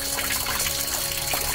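Water trickling at Oiwa Shrine in Japan, a continuous close splashing pour that runs steadily throughout.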